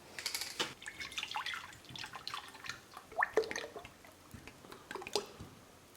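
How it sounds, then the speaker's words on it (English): Vegetable oil pours into a deep fryer in uneven glugs and splashy drips, a wet, irregular trickle that rises and falls over several seconds without talk. "I have my fryer ready. I'll be using vegetable oil. So I'll fill it up."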